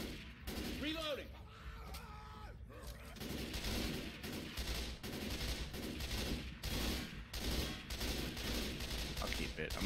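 Shotgun gunfire in the zombie video game Left 4 Dead 2: repeated blasts and clatter throughout, dense and chaotic under game music and effects, with a voice briefly heard early on.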